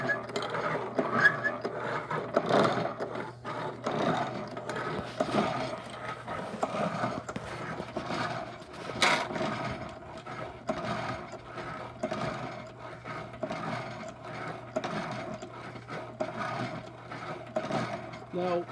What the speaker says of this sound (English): what happens with this machine, the blade lifts up slightly on the forward stroke